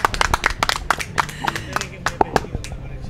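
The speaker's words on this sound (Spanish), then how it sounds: "un aplauso para vosotros" Audience at a Burgos summer fiesta clapping, a quick run of sharp, close handclaps for about three seconds, with voices over part of it.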